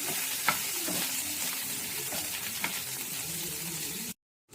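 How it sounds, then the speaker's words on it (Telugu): Butter sizzles and melts in a hot pan, a soft continuous crackle with a few faint stirring clicks, steady and close before cutting out abruptly near the end. "వెన్న మంచిగా మెల్ట్ అవ్వాలి"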